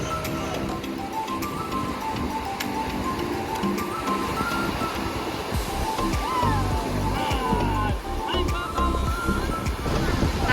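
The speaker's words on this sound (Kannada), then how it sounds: "ಅಲೆ ಅಲೆ ಬರ್ತಾ ಇದೆ." Sea waves wash steadily onto the beach near Sindhudurg fort at Malvan, a continuous surf roar with rising swells, and faint voices and other sounds mixed in throughout.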